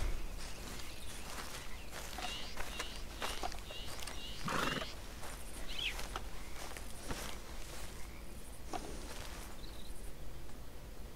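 Horses neigh and whinny a few times over a steady clip-clop of hooves in Red Dead Redemption 2, with a bird chirping faintly in the background.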